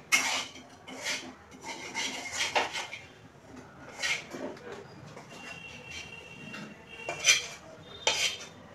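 A pot of curry being taken off a home kitchen stove, with a series of close metallic clanks and scrapes of the pot and utensils in bursts between quiet gaps.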